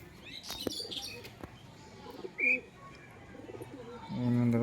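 A pigeon in a village setting gives soft, low cooing calls amid quiet outdoor ambience, with a brief chirp and faint rustling, all at low level.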